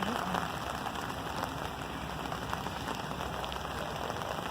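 Heavy summer rain pours down steadily outdoors, a dense hiss of drops on surfaces that stays constant and close throughout.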